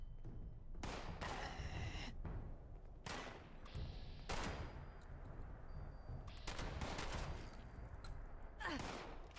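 Enemy gunfire in Fallout 76, several loud bursts of rapid shots in irregular clusters, near and sharp, separated by short gaps.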